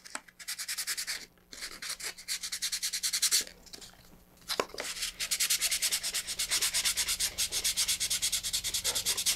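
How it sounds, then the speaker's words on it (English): Sandpaper rubbing over putty fin fillets on a model rocket, close and loud, in rapid repeated back-and-forth strokes with a few short pauses between bursts. "it's already making a lot of dust. And that's what I like about it, because it sands so fast"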